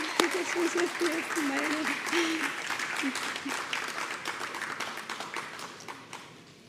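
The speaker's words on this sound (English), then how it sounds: "Give her a round of applause still, please." At a school graduation ceremony, the audience applauds the featured speaker with sustained, fairly loud clapping, and a voice briefly sounds over it at the start before the applause gradually fades.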